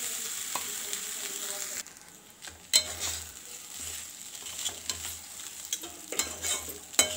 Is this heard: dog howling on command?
no